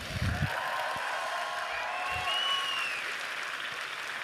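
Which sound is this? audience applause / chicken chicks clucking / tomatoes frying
audience applause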